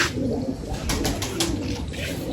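Pigeons coo softly and repeatedly nearby, their low throaty calls overlapping in a steady murmur with a few higher chirps.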